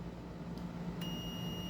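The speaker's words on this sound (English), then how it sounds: "Can you hear that beeping?" A steady, high-pitched multimeter continuity beep switches on partway through and holds continuously over a low background hum, while testing grounds on a 1985 Gottlieb Ice Fever pinball machine.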